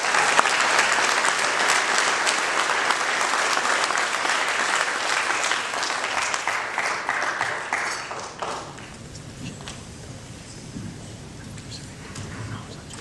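Gala audience breaks into sustained applause welcoming a guest speaker to the stage, loud and dense clapping for about eight seconds before thinning into scattered claps.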